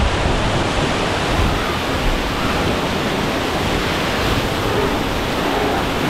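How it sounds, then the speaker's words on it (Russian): Dense, continuous rushing of pouring and splashing water at the Andamanda water park in Phuket, loud and close, with no talking. "Везде льется вода."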